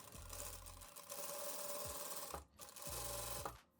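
A sewing machine stitches elastic onto the hem of a loose dress in short bursts of rapid mechanical whirring, pausing briefly between runs, heard close and quiet.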